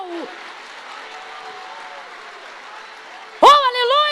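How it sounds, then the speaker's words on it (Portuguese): Church congregation applauding at a sermon, a steady dense wash of clapping that runs throughout, with a loud voice breaking in near the end over the applause. "Se é para aplaudir, aplaude com vontade"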